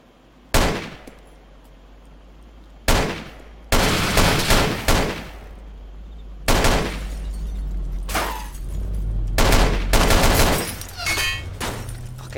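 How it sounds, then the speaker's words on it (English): A minigun fires in the video game DayZ Overpoch in loud, harsh bursts of gunfire, spaced irregularly. A low engine-like drone runs underneath, and the firing grows into a denser, longer barrage toward the end, with no talk. "He's gonna drive by using a minigun."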